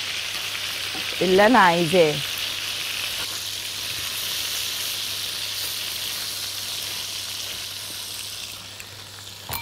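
Chicken pieces fry in a pan with a steady, close sizzle and crackle that runs throughout, while someone speaks briefly near the start.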